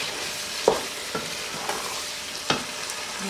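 Achari aloo gobhi with pickle masala being stirred in a pan: a soft sizzle runs underneath as a spoon scrapes and knocks against the metal in several distinct strokes, close by and with no voices.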